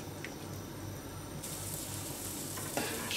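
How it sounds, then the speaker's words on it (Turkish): A spoon stirs a pot of soup with boiled chickpeas and green lentils, a faint, steady simmering wash with soft scraping that grows slightly brighter partway through. "Şöyle bir karıştıracağım."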